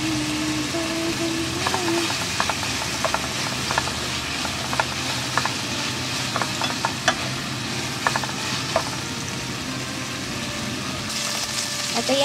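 Pork frying in a pan, a steady dense sizzle with brief clinks of stirring scattered through it, and a faint murmur of a voice now and then underneath.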